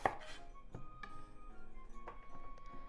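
Knife cutting the ends off a cucumber on a board, a few sharp, separate chopping taps spaced about a second apart, close and fairly quiet in a still kitchen.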